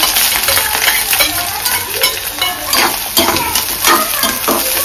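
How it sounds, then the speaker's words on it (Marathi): Onion and green chilli hit hot oil in a kadhai, hissing and crackling loudly and steadily, with occasional scrapes of a stirring spoon against the pan. "तेल सुद्धा तापलेलं आहे कढईत आणि ह्याच्यात कांदा आणि मिरची आहे टाकून घेते"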